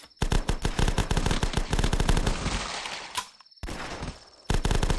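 Rapid automatic weapon fire in a first-person shooter game, loud sustained bursts of shots close up, broken by a short gap before firing resumes.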